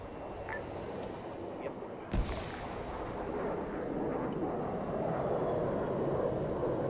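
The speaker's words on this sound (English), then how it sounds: "What are all those explosions?" Distant explosions and rumbling gunfire from an ArmA 3 battle, with a sharp thump near two seconds over a constant low roar of combat noise.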